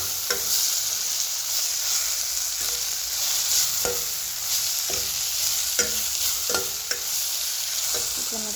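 Brinjal curry with chili powder is stirred in a pan: steady frying sizzle with regular scraping strokes of a spoon against the pan, close and clear, no voices.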